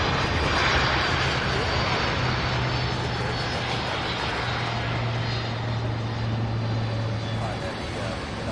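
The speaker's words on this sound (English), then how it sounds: "Out of Dallas-Fort Worth, we've got the MD-11." McDonnell Douglas MD-11 jet airliner at SDF airport, a loud, steady broadband engine roar with a low drone, sustained throughout and fading slightly at the end, with faint talk underneath.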